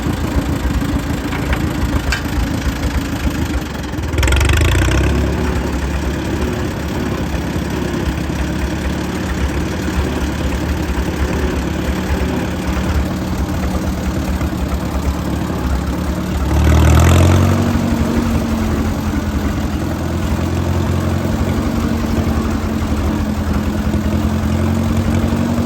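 A 1953 Case DC tractor engine running in third gear, a loud steady low chugging idle-like drone close by, with two brief surges where the throttle rises before settling back.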